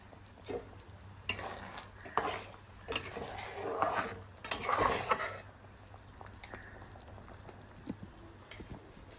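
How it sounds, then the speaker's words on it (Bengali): Slit green chillies drop into a pan of simmering cornflour-thickened sauce, with faint sizzling and bubbling, scattered utensil taps and stirring scrapes, and a louder burst of frying in the middle. "এবার আমি দিয়ে দেবো কয়েকটা কাঁচা লঙ্কা চেরা"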